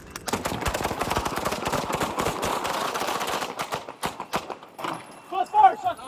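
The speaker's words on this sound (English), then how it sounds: "Shots fired." Rapid gunfire during a police encounter with an armed suspect, sharp cracks in a fast dense burst amid shouting, followed by a few scattered sounds and raised voices.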